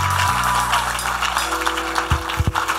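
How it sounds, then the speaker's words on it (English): A church congregation clapping during a gospel convention service, a broad continuous patter of hands mixed with sustained organ or keyboard tones and a few sharper claps near the end. "look at the way you are clapping"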